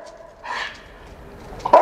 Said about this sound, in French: T'as un chien, il n'a pas l'air content là.